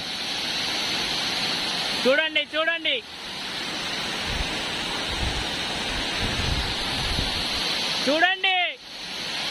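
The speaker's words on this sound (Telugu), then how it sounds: "ఇదే పిట్టల దొర జలపాతం." Pittala Dora waterfall near Boyapalem village, Visakhapatnam, roars in a continuous broad rush of falling water close by, while a man briefly calls out twice over the steady torrent.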